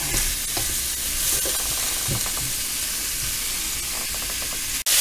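A pan of golden beets fries with a continuous sizzling hiss, scraped and stirred now and then, with a sharp clatter near the end.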